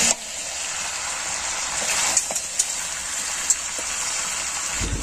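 Chicken curry sizzles and crackles in hot oil in a pan as fried potatoes go in, with a steady broadband hiss and a few sharp pops near the close.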